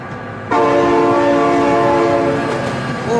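A train horn from an approaching train in a video game blares in suddenly after a brief quiet start, then holds as a loud, sustained multi-tone blast for a few seconds.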